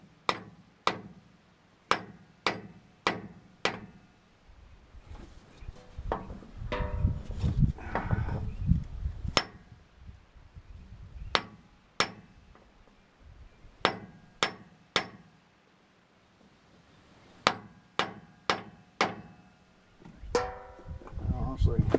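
A hammer drives a pinion seal onto a rear differential, with sharp metallic blows landing in quick rhythmic runs separated by short rests. The strikes are close and loud, with some shuffling and grunting between the runs.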